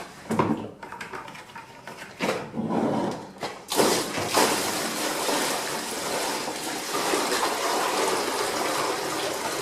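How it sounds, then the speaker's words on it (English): Water splashes and churns around a Zoeller M63 sump pump in a close, continuous wash, broken early by a few thumps and bursts before settling into a steady gush. "This is the first time I've tested this pump. It's probably going to splash all over us"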